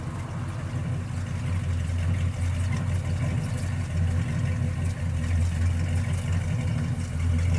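A 1969 Chevrolet Chevelle SS 396 V8 idles with its exhaust cutouts open, giving a steady, deep, rumbling burble that sounds loud and close with a slightly uneven pulse and no talking.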